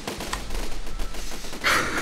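A walking artillery platform in Besiege fires its many cannons, giving a dense rolling barrage of booms with a low rumble throughout and a sharper burst near the end.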